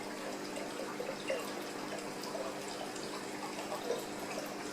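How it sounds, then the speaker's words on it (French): CO2 from a fire extinguisher bottle bubbling through liquid, a soft continuous watery fizz with small scattered bubbling pops at low, even level and no talk. "Vous voyez les bulles"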